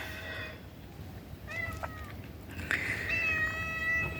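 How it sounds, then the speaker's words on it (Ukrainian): A cat meowing to be let into a small greenhouse, several close, drawn-out meows in a row, rising in pitch and more insistent toward the end, over a low background hum. "кіт мій проситься у теплицьку"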